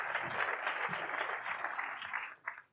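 An audience claps at a real-estate awards ceremony, steady dense applause from a crowd at moderate distance that fades near the end with a last few claps.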